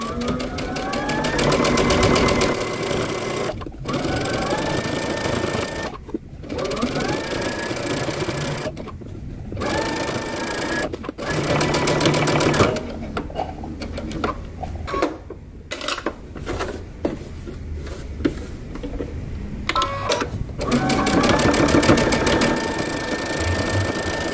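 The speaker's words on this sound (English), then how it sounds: "take this back to the sewing machine and we're going to top stitch around the edge of our neckband" A sewing machine top stitches around the neckband of a tee shirt close to the seam line, its motor whirring in several long bursts separated by short pauses, loud and close with no talking.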